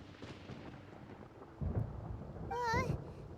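Thunder rumbles during a storm in Genshin Impact, a low rolling boom rising midway through, with a brief voice-like call over it near the end.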